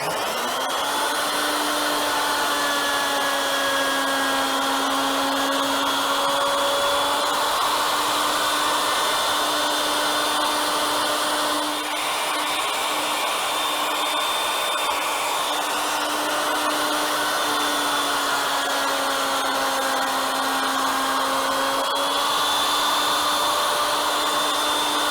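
An ornamental mill runs a steady, whining cut straight down the center of the stock, leaving three parallel flutes; the tone holds constant and close for the whole span with small pitch shifts, and no one talks.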